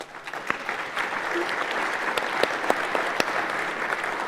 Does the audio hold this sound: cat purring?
no